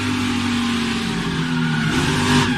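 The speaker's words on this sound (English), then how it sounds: "You hear him throttle it up as soon as he got loose" A NASCAR Xfinity race car's engine, heard from onboard, roars loudly and continuously as the driver throttles up after the car gets loose, the tone rising slightly toward the end.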